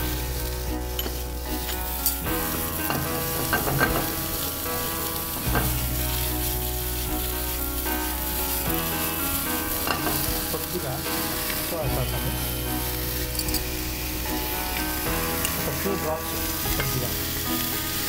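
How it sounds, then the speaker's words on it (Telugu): Boiled vegetables seasoned with salt and pepper sizzle and fry in a pan, a steady close crackle with stirring scrapes, while a person talks over it. "సో ఇట్స్ జస్ట్ వెజిటబుల్స్ అన్ని రోస్ట్ అవుతున్నాయి."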